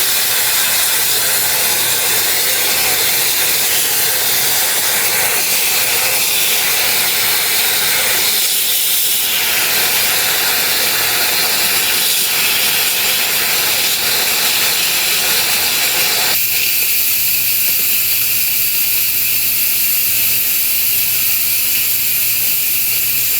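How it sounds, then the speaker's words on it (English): An Instant Pot pressure cooker vents steam through its quick-release valve, a loud, continuous rushing hiss up close that fluctuates slightly, dips briefly, then drops to a softer, thinner stream partway through. "So now we're going to do a quick release."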